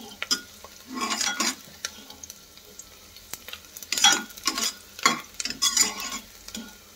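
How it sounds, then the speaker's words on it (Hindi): Onions frying and being stirred in a pan for a Hindi-style parwal curry, steady close sizzling broken by repeated scraping stirs of a spoon against the pan, with a few light metallic clinks. "प्याज को ज्यादा ना भुने।"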